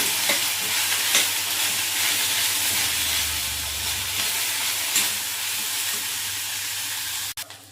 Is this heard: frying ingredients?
yes